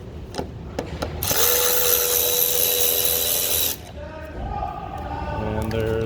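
A power tool backs out bolts while parts are removed on a 2011-2016 Ford Powerstroke diesel, sounding as a loud, steady whirring burst of a few seconds, followed by quieter rattles and clatter nearby.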